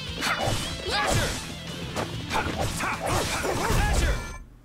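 A dog barking in the video game Tales of Vesperia, several sharp yips and barks mixed with battle whacks and impact hits, loud and busy throughout.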